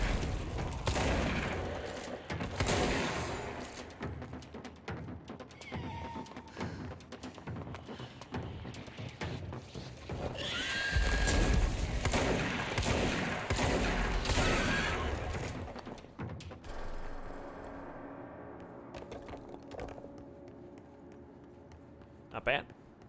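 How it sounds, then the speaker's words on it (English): Shotgun blasts and heavy gunfire ring out in Borderlands 3 during combat with enemy creatures, dense bursts of shots and impacts crowding the scene while a player talks over the action. "These things don't like the shotgun."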